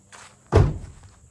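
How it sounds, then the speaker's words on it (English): Vehicle doors at a deer camp shut with one heavy, close slam, preceded by a faint shuffle and followed by a brief fading rumble. "There you go, shut the doors."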